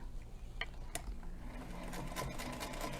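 A Singer Featherweight sewing machine stitches quilt lines, a steady close mechanical whir with rapid needle chatter running continuously throughout.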